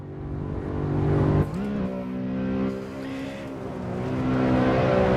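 Ring Taxi car on the Nordschleife, heard as a loud, continuous engine note that dips and shifts pitch under heavy braking and then builds again as the car drives on, with no talk.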